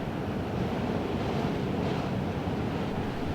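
Strong wind blows steadily across an open barley field, a dense, loud rushing roar with heavy buffeting on the microphone and no pauses or voices.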